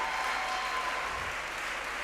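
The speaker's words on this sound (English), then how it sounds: "Please let's acknowledge with a clap offering." An audience at a university anniversary colloquium gives a round of applause, steady dense clapping at an even moderate level throughout with no voices over it.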